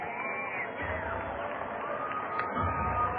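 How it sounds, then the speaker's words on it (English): Baseball stadium crowd at a minor-league game swelling into a steady roar of cheers and whoops, a broad continuous wash of many voices that grows fuller toward the end. "Crowd starts to come alive"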